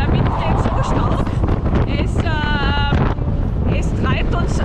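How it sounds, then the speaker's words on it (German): Strong wind buffets the microphone on a street in Turkey, loud gusty roaring rumble throughout, with a person talking and singing-like voice tones mixed over it. "weil der Wind geht so stark"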